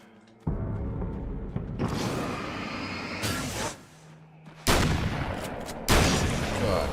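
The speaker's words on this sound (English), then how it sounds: "God, this hunting rifle." Hunting rifle shots in Alan Wake's American Nightmare, several sharp loud blasts in irregular bursts with short quieter gaps between, close and dominant.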